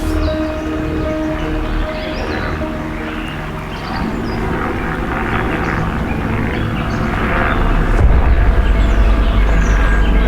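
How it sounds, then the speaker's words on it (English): Steady low rumble of a helicopter overhead, continuous and fairly loud, swelling slightly toward the end, with faint birdsong and rustling around it. "I started hearing the chopper"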